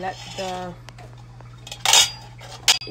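A spoon stirs black tea with milk and cardamom in a small pot, making a few scraping strokes and then two sharp metallic clinks against the pot, close and clear over a low hum.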